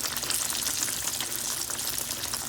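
Breaded chicken fried steak frying in oil at 325 to 350 degrees, heard as a dense, continuous crackling sizzle that stays loud and even throughout.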